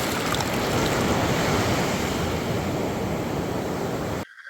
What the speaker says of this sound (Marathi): रिसॉर्टमधूनच लाटांचा आवाज येत होता